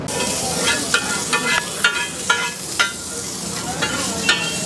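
Mutton chaap fries on a tawa in desi ghee with ginger and onion, giving a dense, loud, continuous sizzle punctuated by regular spatula taps and scrapes about every half second.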